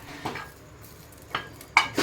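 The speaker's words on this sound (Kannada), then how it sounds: "ಇವನು ಫ್ರೈ ಮಾಡ್ಕೊಳ್ಳೋಣ." Green chilies and tamarind frying in a pan, heard as a low background sizzle with three distinct spatula stirs and clinks against the pan, close by and without talking.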